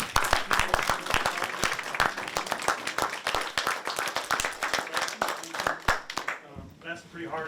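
An audience at a Swanton Enhancement Project community meeting claps for award winners, a steady patter of many hands that gives way to a quieter tail near the end, with voices murmuring underneath.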